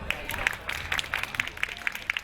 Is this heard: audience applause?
yes